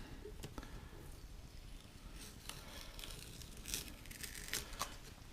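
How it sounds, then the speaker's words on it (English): Masking tape is peeled off a painted 1/350 scale Star Trek Enterprise refit model kit. Faint, intermittent tearing and crinkling strips come in short bursts close to the microphone. "I'm just removing some of the masking tape, or all of the masking tape"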